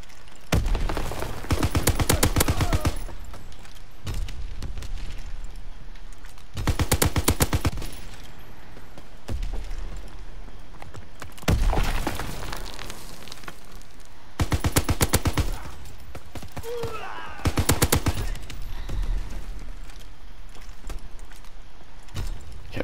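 Bursts of MG 81 machine gun fire in the World War II shooter Call of Duty WW2, several loud sustained automatic volleys spread across the stretch, with battlefield noise continuing between them.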